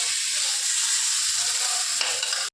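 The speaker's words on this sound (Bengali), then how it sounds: "এই যে ডাল হয়ে গেছে, আলু ভাজা হচ্ছে," Potatoes frying in a pan give off a steady, close sizzling hiss that runs unbroken for over two seconds, with a faint stir near the end, before cutting off abruptly.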